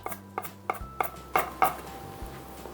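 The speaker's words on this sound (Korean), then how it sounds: "이렇게 칼집을 낸 다음에요. 이렇게 잘잘하게 다져주세요." Knife chopping a third of an onion on a cutting board, with about six sharp, evenly spaced chops close up, no talking.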